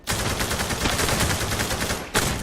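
Shotgun fire in the online shooter Zula, a loud, continuous barrage of close blasts lasting about two seconds, followed by one more sharp shot.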